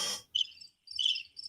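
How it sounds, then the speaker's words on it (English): Cricket chirping sound effect: short, bright chirp bursts repeating in two or three quick clusters over a quiet, still background, fairly close and clear. "We're gonna do crickets?"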